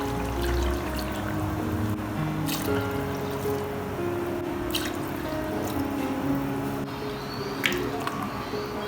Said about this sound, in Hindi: 4 गिलास भर के हम ये वाले पानी डाल देंगे इसमें